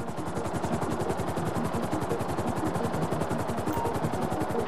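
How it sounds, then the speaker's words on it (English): A helicopter hovers in the video game Grand Theft Auto V, its rotor throbbing in a fast, steady chop over a whining engine, loud and close for the whole stretch. "I need you to hold the chopper above it while I take a look."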